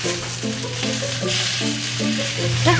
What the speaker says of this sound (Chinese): 它煎鸡腿排，可是它放很多油。